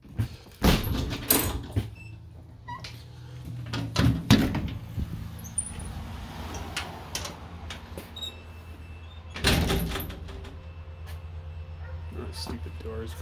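A door being closed indoors, several sharp knocks and thuds including a loud bang midway, with faint squeaks and rattles between, while a person speaks throughout.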